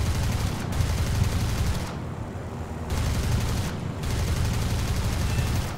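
Aircraft cannon fire from a plane in the War Thunder video game, loud rapid bursts of shots with short pauses between them, heard alone without talk.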